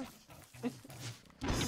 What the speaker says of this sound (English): Train of dogs behind you.